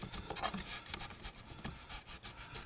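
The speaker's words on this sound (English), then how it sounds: "I'm going to use my glass muller. And this is my mulling slab" A glass muller grinding poinsettia leaves on a mulling slab, giving close, soft gritty rubbing strokes in an irregular back-and-forth rhythm, faint and heard alone.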